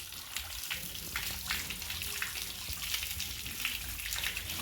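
Water splashes and pours steadily over an animal's head during a wash, a continuous close gushing sound with no voices.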